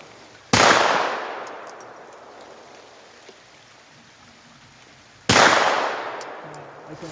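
Two sharp rifle gunshots, about five seconds apart, each a loud broadband crack with a long decaying echo, fired at a target 75 yards away in the rain, with steady rainfall hissing between the shots.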